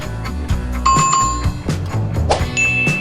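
A bright notification bell chime rings a couple of times, clear ringing tones over a busy musical backing, in a prompt to click a bell icon.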